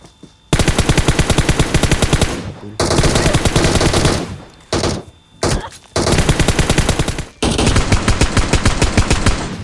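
Automatic gunfire in the video game PUBG rings out in several long, loud rattling bursts separated by brief gaps, close and dominant with no talk over it.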